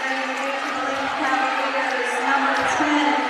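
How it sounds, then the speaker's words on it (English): Basketball crowd at a varsity girls' game between SC Caston and Tri County, a steady loud roar of cheering and shouting filling a gym throughout, with sustained voices blending together. "Crowd erupts. Both sides going crazy."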